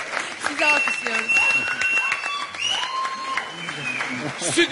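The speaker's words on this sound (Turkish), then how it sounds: "Size alkışlıyoruz." Studio audience applause on a Turkish television game show, clapping and cheering mixed with excited shouts and whistles throughout, with people speaking over it.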